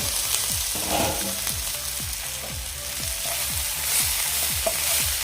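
Cabbage sabzi frying in a pan once the lid comes off, with a steady loud sizzle broken by repeated short scraping stirs, alone and close.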